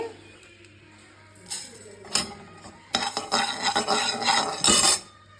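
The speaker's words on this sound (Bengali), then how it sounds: "আচারের মশলা এক এক করে ভাজছি" Coriander seeds dry-roasting in a pan for amla pickle, stirred with a metal spoon that rasps and clinks against the pan, growing louder and busier toward the end.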